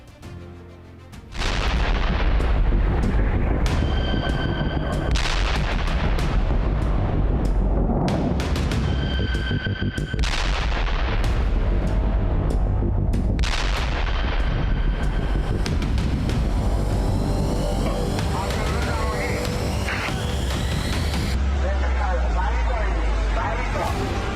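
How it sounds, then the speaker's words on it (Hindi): Massive explosions after a US strike on an IRGC missile site: a continuous, dense roar of blasts and rumbling booms, loud and sustained throughout, with no speech over it. "IRGC की मिसाइल साइट पर अमेरिकी हमले के बाद भीषण विस्फोट।"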